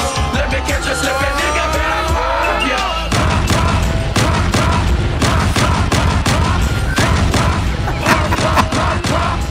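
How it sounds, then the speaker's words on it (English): Dense gunfire packed into a song: volleys of loud, sharp shots and booms crackle in rapid bursts over music, with a yell mixed in, growing heavier after the opening few seconds and continuing to the end. "I ain't never heard nobody put that much gunshot in the song."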